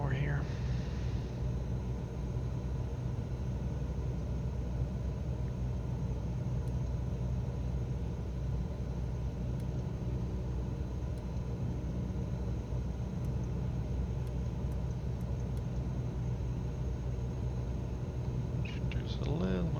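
A small aircraft engine drones steadily at rising power in a flight simulator, a constant loud rumble throughout with an added whine near the start and end.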